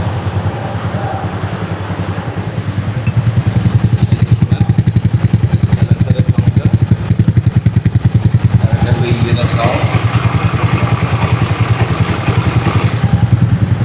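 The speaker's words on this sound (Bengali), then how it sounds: "একদম স্মুথ একটা সাউন্ড আসবে লিফান ওয়ান ফিফটি সিসি কেপি" A modified Lifan KP150 150cc motorcycle engine runs close by with a rapid, steady putter, picking up a bit louder partway through and continuing evenly throughout.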